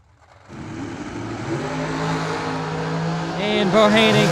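Race cars at a drag strip on a Christmas bash event night, engines building from idle into a loud rising roar as they launch, with an announcer talking over the noise.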